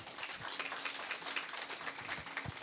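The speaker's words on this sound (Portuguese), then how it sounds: "Uma salva de palmas para ela, senhores" An audience applauds, heard as a faint, distant, steady patter of many hands that lasts the whole moment without any talk over it.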